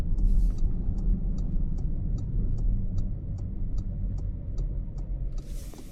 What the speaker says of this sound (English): And now let's listen for the turn signal sound.